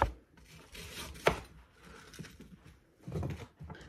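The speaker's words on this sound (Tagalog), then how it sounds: "mag-slice muna tayo ng onion" A knife slicing through half an onion during preparation of a beef stir fry, with a series of quiet, irregular cutting strokes and one sharper strike standing out.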